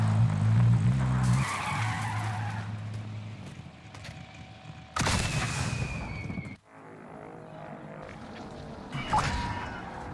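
A vehicle speeds and skids with tire squeal in Call of Duty Warzone, with engine roar, a sudden loud jolt midway and another burst near the end, all close and loud, with faint talk underneath.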